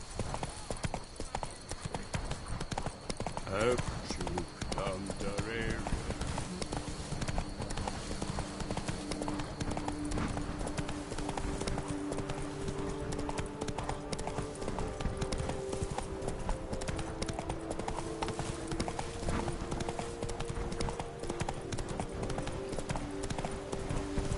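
Horse hooves clip-clop steadily in The Witcher 3: Blood and Wine as the mount travels at an even pace, a continuous rhythmic clatter with game ambience and occasional voices.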